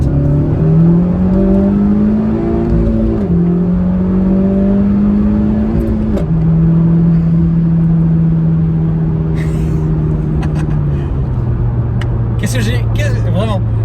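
A Honda Civic Type R FK2 pulls hard through several gears, its engine note climbing and dropping at each shift, with short turbo whooshes and dump-valve hisses breaking in near the end, loud and close from inside the car.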